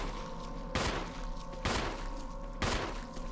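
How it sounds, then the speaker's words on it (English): Three loud gunshots from a firearm in the horror video game Resident Evil, evenly spaced about a second apart, each a sharp broadband burst over a steady game background hum. "Am I wasting bullets?"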